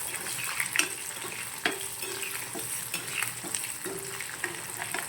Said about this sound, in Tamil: இப்போ கட் பண்ணி வச்சு வெங்காயத்தை சேர்த்துக்கோங்க. கூட இந்த பூண்டையும் சேர்த்துக்கோங்க. ரெண்டையும் நல்லா வதக்கி விடுங்க.